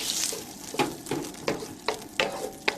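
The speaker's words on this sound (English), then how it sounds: "some ham fat, smoked ham fat, cured ham fat, into my pan over here" Smoked, cured ham fat sizzles in a very hot pan with a soft, steady fry, broken by a few sharp bursts as it is stirred.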